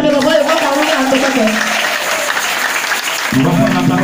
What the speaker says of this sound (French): Est-ce que tu vas acclamer Dieu?